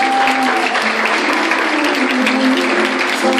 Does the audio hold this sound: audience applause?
yes